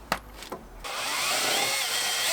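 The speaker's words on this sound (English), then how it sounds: "I'll just got the drill on them. Put some screws in there." A power drill drives screws into wooden supports for an outdoor DIY pull-up bar, first with a few short taps and then a sustained whirring run lasting about a second and a half, close and loud with no talking.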